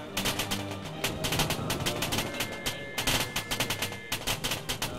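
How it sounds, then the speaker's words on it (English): Battlefield gunfire from the Battle of the Frontiers: loud, rapid bursts of rifle and machine-gun shots, fired in quick repeated volleys close by. "Fire, Gonzalez, fire!"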